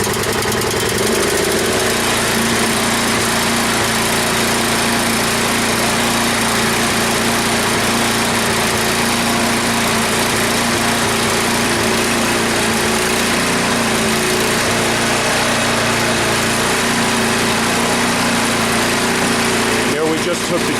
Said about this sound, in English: We're going to let it run for a few minutes just to see if it starts surging again or stalling